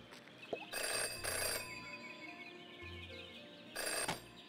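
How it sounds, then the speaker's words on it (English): A public telephone in the game Jenny LeClue rings in bursts of bright, electronic bell trills, two rings close together, then a pause, then another, with quiet ambience between. "Jenny had learned never to ignore a ringing phone."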